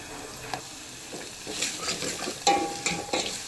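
Two onions frying in a little oil for buttermilk curry, a faint crackle with intermittent stirring scrapes and spoon taps growing busier toward the end.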